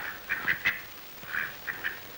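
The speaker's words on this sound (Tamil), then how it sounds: "என்னது வாத்து பிடிச்சிட்டு வந்திருக்கீங்க?" Several short nasal duck quacks in a scattered run, a pair near the start and a few more later, fairly close against quiet room background.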